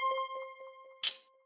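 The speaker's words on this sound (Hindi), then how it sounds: "चाचा चौधरी के घर पर घंटी बजती है।" A doorbell rings at Chacha Chaudhary's house: a soft, clear chiming tone rings out and fades, followed by a brief louder clattering jangle near the end.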